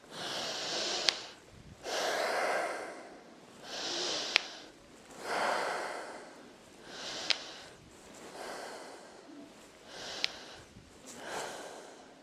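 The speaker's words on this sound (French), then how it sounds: "j'inspire et j'expire." Yoga instructor inhaling and exhaling: about five slow, rhythmic breath cycles, close and audible with airy rushes, each exhale marked by a short sharp click or snort.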